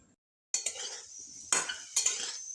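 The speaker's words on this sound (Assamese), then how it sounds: "এতিয়া ধুনীয়াকৈ আলুখিনি ভাজি ল'ম" Potatoes frying in a pan over a low gas flame while being stirred: a soft sizzle under three sharp scraping, clinking strokes of a utensil against the pan, close and quiet after a short silence.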